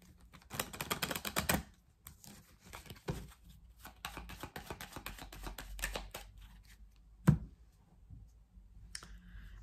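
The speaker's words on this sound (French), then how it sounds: "on va faire un tirage en 9 cartes" Oracle cards are shuffled and laid out for a nine-card spread: bursts of quick riffling and clicking card sounds, close and fairly quiet, with a sharp tap partway through and soft handling noises in between.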